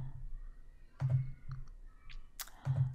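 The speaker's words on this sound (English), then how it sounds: "let me just click this" Quiet computer mouse clicks during spreadsheet-style report building, a handful of short, sharp ticks spaced unevenly across a few seconds, close and isolated in a still room.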